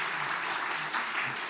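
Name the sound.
applause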